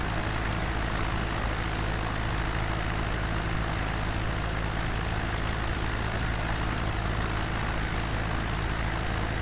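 Steady engine drone of an aircraft flying over North Wales, a constant broadband roar with a low hum, unbroken throughout with no voices.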